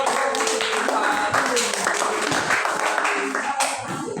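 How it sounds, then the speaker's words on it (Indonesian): Classmates clap for a student group in a classroom, a loud, dense burst of applause lasting a few seconds with little else audible. "Tepuk tangan buat kelompok"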